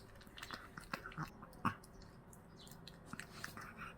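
A dog chews soft food nearby, making quiet, irregular wet smacks and bites, one of them louder, against a faint background.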